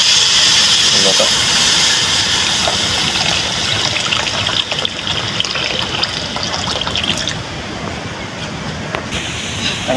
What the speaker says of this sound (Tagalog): Lalagay tayo ng tubig para naman sa pampalambot sa ating